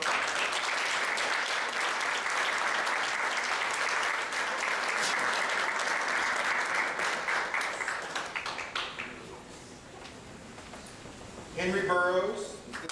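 Audience applause for students being recognized at a Johns Hopkins CTY ceremony, a sustained dense round of clapping that fades after about nine seconds, followed by a brief spoken voice near the end.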